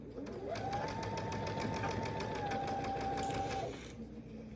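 A sewing machine stitches a quarter-inch quilt block seam along a long side, humming steadily and close for about four seconds before stopping.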